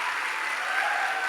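Close, even clapping from an audience fills the moment with a brief, uniform burst of applause.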